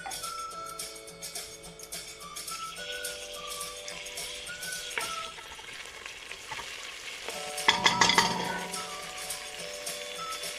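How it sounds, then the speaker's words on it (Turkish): Tomato paste and garlic sautéing in a pot, part of a zucchini dish, give a steady close sizzle with light stirring clinks and a louder clatter of utensil on pot partway through; no voices. "Bir yemek kaşığı kadar da salçamızı sarımsağımızla beraber kavuracağız."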